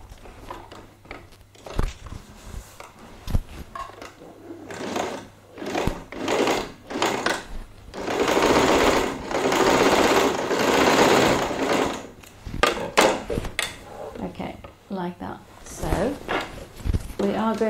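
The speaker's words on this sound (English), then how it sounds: "then you should be able to sew right next to the denim" A sewing machine stitches bias binding onto a denim jeans bag in loud bursts of whirring, stopping and starting, while a person talks between and over the runs.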